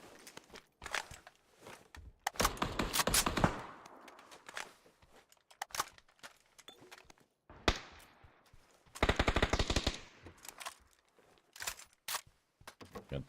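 AK rifle gunfire in a first-person shooter game, fired in several separate rapid bursts with quieter gaps, footsteps and soft thuds between the volleys.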